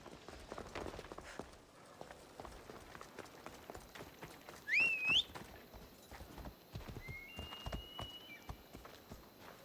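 Hooves of a horse clip-clop in quick, steady rhythm in the video game Assassin's Creed Odyssey, with a short neigh partway through, heard fairly faint and close.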